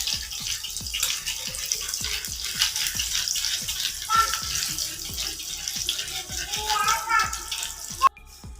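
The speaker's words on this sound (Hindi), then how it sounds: "ये देखिए बहुत अच्छे से ये फ्राई हो रहे हैं।" Shami kababs fry in oil over a medium flame, giving a continuous bright sizzle dotted with small pops and crackles, fairly close, while someone speaks now and then.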